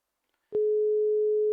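A phone call rings with a single steady electronic tone lasting about a second, clean and alone after a brief silence.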